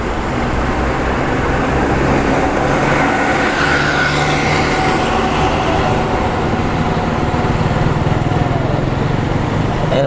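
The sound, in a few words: Panglima Bus coach, Mercedes-Benz OH1626 chassis, Adi Putro body, passing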